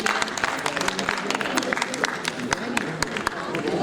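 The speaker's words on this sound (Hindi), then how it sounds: "तालियों के साथ अभिनंदन" Applause from an audience at a Hindi literary award and honour ceremony, dense steady clapping across the whole stretch with a few sharper claps and a voice talking faintly over it.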